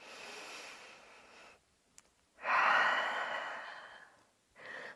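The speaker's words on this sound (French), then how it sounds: "Encore une belle respiration ici." Deep breaths during a yoga practice: a long breathy exhale, a pause, then a louder, fuller breath fading out, followed by the start of another, close and quiet.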